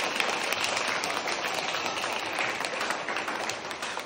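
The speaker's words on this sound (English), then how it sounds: "Put a clap to her" Students in a classroom clap for a classmate, a fairly even patter of many hands that stays moderately loud and continuous without a break.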